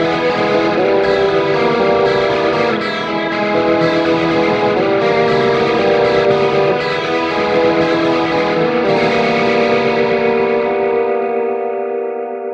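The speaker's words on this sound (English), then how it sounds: "in scene 8, we've got our rotary with all the atmosphere on." Axe-Fx II guitar preset on its rotary effect with atmosphere, a loud, steady sustained chord swirling with chorus-like modulation and echo, ringing continuously and fading slightly at the end, with no voices.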